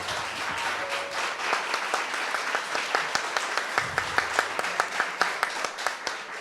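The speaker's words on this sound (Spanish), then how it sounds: "Un aplauso." Audience applause at an animation festival: a steady wash of clapping that turns into louder, evenly spaced rhythmic claps toward the end, with no voices over it.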